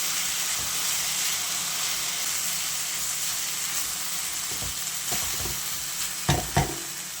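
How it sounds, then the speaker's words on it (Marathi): Potato with taro leaves sizzles steadily in a pan as a spoon stirs it, a constant close frying hiss broken by a few scraping knocks near the end. "आता मिक्स करून घेऊया"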